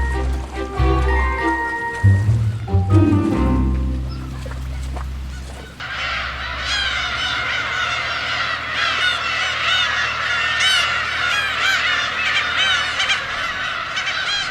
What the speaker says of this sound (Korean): 수만 마리의 갈매기들이 하필 이 작은 섬에 한꺼번에 몰려와 자리다툼을 벌이는 것일까요